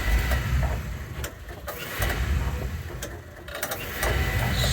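An oil boiler burner starts up during a test run and gives a steady loud mechanical roar with a rumbling low end and a few clicks and ticks along the way.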